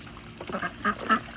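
A few short quacks from gray runner ducks, three nasal calls spaced across a second or so, close by over faint background noise.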